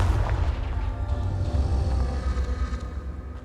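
Confringo blasting spell explosions in Hogwarts Legacy, a sustained deep rumbling boom with rolling low-end blasts layered over a continuous roar, loud throughout with no talking.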